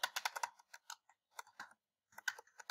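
Rapid typing on a computer keyboard, bursts of close, crisp key clicks with short pauses between runs of keystrokes.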